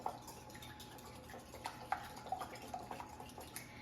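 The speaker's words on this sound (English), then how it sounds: "And then we're going to go ahead and whisk well." Three eggs are whisked in a medium-sized bowl for pumpkin bread, giving faint, quick, irregular clicks of the whisk against the bowl, close by and quiet, with no talking.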